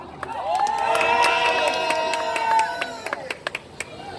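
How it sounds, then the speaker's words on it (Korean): At a street political rally in Seocho, Seoul, a crowd cheers with sustained shouting voices, then scattered sharp claps ring out toward the end. "큰 박수가 필요합니다"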